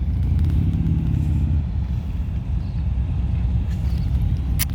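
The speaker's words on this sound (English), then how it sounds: "A couple of Harley Davidsons." A couple of Harley-Davidson motorcycles rumble past close by, a steady loud low engine drone with crackling exhaust that holds for several seconds without easing.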